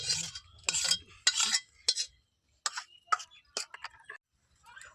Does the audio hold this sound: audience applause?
no